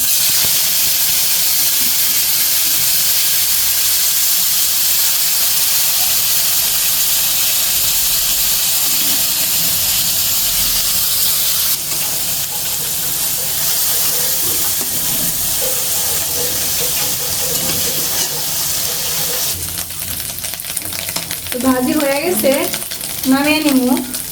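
Small fish frying in hot mustard oil in a kadai, a loud, dense, continuous hiss and sizzle held close for a long stretch, easing slightly partway through, with a brief tonal squeal near the end.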